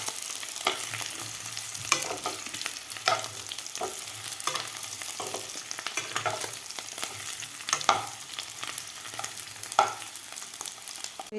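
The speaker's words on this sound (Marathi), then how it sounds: "तर बटाटेसुद्धा आपल्याला तेलामध्ये व्यवस्थित परतून घ्यायचे आहेत 1 मिनिटभर" Boiled baby potatoes stir-fried in hot oil for aloo fry, giving a steady sizzle with repeated scraping stirs of a spatula at a roughly even pace, close and moderately loud, with no talking.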